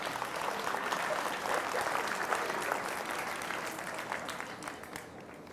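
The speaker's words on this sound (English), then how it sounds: "can we give all these exhibitors a round of applause before I go shake their hands?" Crowd applause for exhibitors at a 2019 beef cattle show: steady, moderately distant clapping in a large arena that slowly fades over five seconds.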